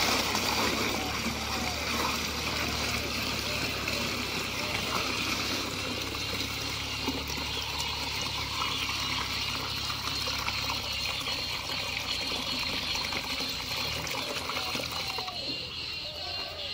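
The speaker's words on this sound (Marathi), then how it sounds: "बियाणं पाणी पूर्ण आपल्याला ओतून घ्यायचं" Water poured off soaked okra seeds, a steady running and splashing stream that continues close and unbroken throughout, easing off near the end.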